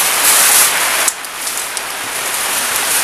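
Steady rain pours down outdoors during a cooking session for nasi liwet, a dense hiss that drops to a softer, lighter patter partway through and continues without talk.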